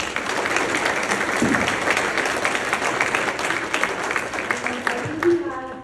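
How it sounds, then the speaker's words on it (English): A round of applause from the audience at the TAMU IEEE Semiconductor Summit, steady clapping throughout that thins near the end as a voice begins to speak. "can we give them a round of applause,"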